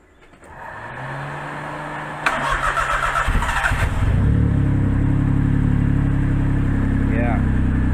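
A Roosta race car engine cranks and fires up, whirring briefly before catching, then settling into a loud, steady, throbbing idle close by. A voice may be heard over it.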